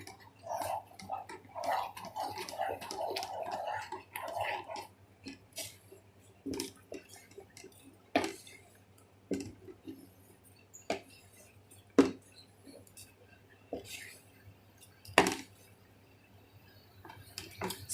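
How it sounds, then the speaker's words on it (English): A spoon scrapes and stirs thick mango jam in a pan, making irregular clinks and scrapes against the metal, with a soft bubbling hiss during the first few seconds. "Scrape off from the sides nicely and mix it well again."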